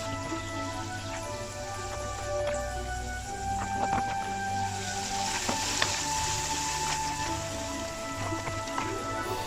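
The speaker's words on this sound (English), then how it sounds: "I use the leftover gravy from the pan to cook the vegetables" Frozen mixed vegetables cooking in leftover mince gravy in a pan, giving a steady, moderate sizzle with scattered small pops and crackles throughout, no talking.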